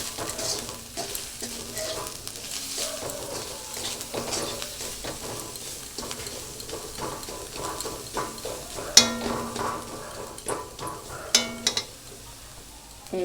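Turmeric and salt masala sautéed in a pan for a tilapia and gathi kochu curry: steady sizzling broken by frequent scraping stirs and a few sharp clinks of a spatula on the pan, close and moderately loud, with no talk.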